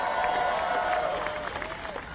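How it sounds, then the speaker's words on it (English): A large outdoor crowd on the White House South Lawn applauds and cheers to welcome new White House interns, a dense, sustained roar of clapping with a voice faintly over it. "Let me also give a big round of applause and welcome to our new White House interns."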